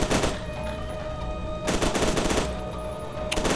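Automatic weapon fire in the video game F.E.A.R. 2 rattles in loud, close bursts separated by short pauses.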